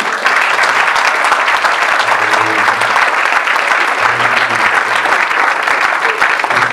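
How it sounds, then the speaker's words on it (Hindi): A church congregation at a New Year's Eve Urdu service applauds loudly for the pastor, a thick, sustained roar of clapping filling the whole stretch with no speech over it. "खुदा के कलाम के लिए और खुदा के बंदा के लिए जोरदार ताली"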